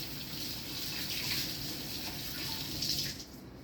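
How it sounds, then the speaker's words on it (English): Hands being washed with soap under a running kitchen tap, a steady close stream of water splashing continuously and easing off near the end, no talking. "you need to make sure you wash your hands good and with soap"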